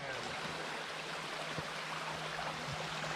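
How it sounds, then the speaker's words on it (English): Small mountain creek running out of the hillside at a backpacking trail crossing, a steady broadband rush of flowing water that stays fairly close and even, with a low hum beneath it and no voices. "we got a small creek crossing here where the water just comes right out of the mountain over there"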